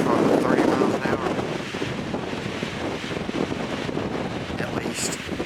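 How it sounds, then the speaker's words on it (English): Strong gusting wind of around 30 mph buffets a microphone fitted with a windscreen on a mountain summit at sunrise, a loud broad roar that swells and eases, with a voice briefly audible. "I'd say the wind's probably 30 miles an hour."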